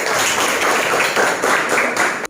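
A classroom of students claps together for a classmate during a Hindu religious education lesson: dense, steady, close applause for about two seconds that stops abruptly.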